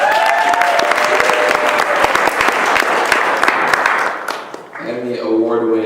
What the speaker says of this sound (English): Let's give Laila a big round of applause.